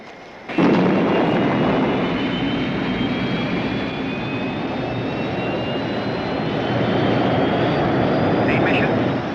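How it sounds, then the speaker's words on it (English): Spacecraft liftoff from Space: 1999, a sudden loud roaring rocket blast that starts sharply and holds a steady, dense rumble with faint whining tones, then a brief chirp near the end. "We have liftoff."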